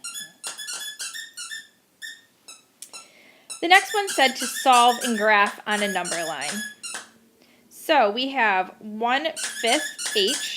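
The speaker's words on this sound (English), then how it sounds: "Please excuse my dog. She's squeaking in the background here." A pet dog squeaks in the background, its high, repeated squeals rising in bursts over and between a person speaking close up.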